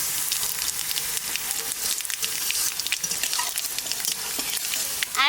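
Bay leaf and cumin fry in hot mustard oil, a loud, continuous sizzle with scattered pops and stirring scrapes and no voices.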